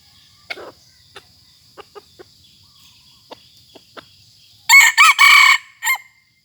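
A rooster crows once, loud and close, after a stretch of quiet chirping insects and a few soft clicks.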